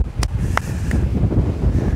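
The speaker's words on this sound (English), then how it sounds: "It's still very windy" Wind buffets a microphone in low, rumbling gusts, with a few brief higher whistles and rustles, no voices.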